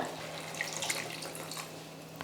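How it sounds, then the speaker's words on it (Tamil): Water pours steadily into a pan of okra gravy in a continuous splashing stream, close and moderately quiet, with no talking. "இப்போ தேவையான அளவுக்கு வந்து தண்ணி சேர்த்துக்கிறேன்"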